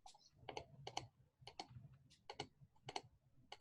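Computer mouse and keyboard clicks from someone playing Warhammer on a computer. Quick, irregular clusters of crisp taps sound faint and close over a low background hum, with no talking.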